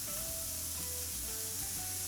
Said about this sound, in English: And get a little bit of sizzle, but not too much.